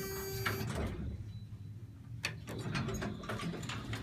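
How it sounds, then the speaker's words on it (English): The door operator of a modernized Thyssen traction elevator in a San Jose business tower runs with a whirring, grinding mechanical sound, a sharp clunk partway through, then continued rattling motor noise. "That's a weird door operator sound."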